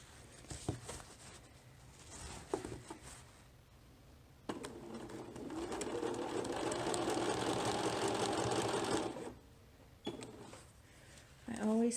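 A sewing machine stitching a lined embroidered net dress made from Butterick pattern 6415. The motor runs in one steady whirring stretch of about five seconds, framed by quieter clicks and fabric handling, with a voice talking nearby.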